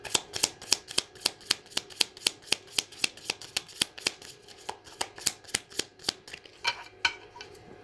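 Tarot cards are shuffled in a quick, regular series of crisp riffling slaps, about three per second, close and fairly quiet, with no talking.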